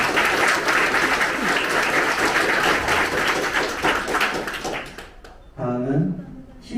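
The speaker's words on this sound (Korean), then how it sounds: "자축하는 박수를 다시 한번 쳐보자." Dense applause from a large audience at the Incheon election committee's closing ceremony after the 2022 presidential election fills the room for about five seconds, then fades as a voice starts speaking.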